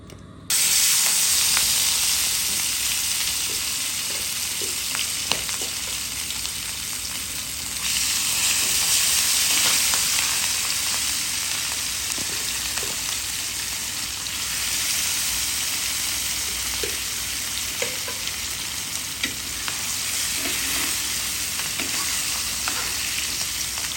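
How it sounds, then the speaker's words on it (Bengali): Pieces of rohu fish, coated in spice, fry in hot oil as part of a Bengali rui mach bhuna, giving a steady, loud broadband sizzle with occasional crackles and stirring clicks throughout, with no talking. "দিয়ে দিলাম তেল মাছ ভাজার জন্য।"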